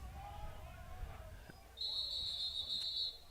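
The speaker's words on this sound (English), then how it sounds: "Play is whistled dead immediately." A referee's whistle blows play dead at a college football game, one sustained shrill blast near the end, over crowd murmur with a commentator talking.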